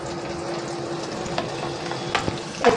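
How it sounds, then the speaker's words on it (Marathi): Chopped onion sizzles in hot oil as a tempering for a cowpea curry. Steady frying hiss runs throughout, with a few clinks of stirring near the end. "ह्याच्यामध्ये आता आपण कांदा घालणार आहोत फोडणीसाठी"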